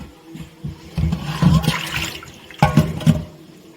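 Water from a kitchen tap splashes and gushes in uneven bursts while ingredients are washed for cooking a biryani. Loud close surges are separated by quieter trickles, with no talking.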